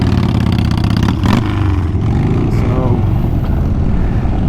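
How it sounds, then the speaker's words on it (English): A 2023 Indian Super Chief 116 Thunderstroke motorcycle with its stock exhaust rumbles loudly up close, a deep throbbing engine note that swells briefly as the throttle is blipped, with a voice talking over it. "You're going to get some of that nice rumble sound that you would expect from an aftermarket exhaust"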